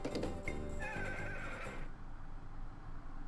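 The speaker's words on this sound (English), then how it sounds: "You are the best horse in the whole world." A horse in the farming video game Story of Seasons gives a loud, close whinny followed by a few quick hoof clip-clops, with a bright rising squeal near the start before fading into quieter background.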